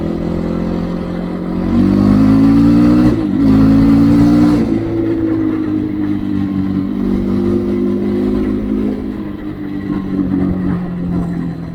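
A KOVI MAX 300 motorcycle engine revs up loudly in third gear and steadily climbs in pitch as it accelerates, close by, with a brief dip midway and continuous drone.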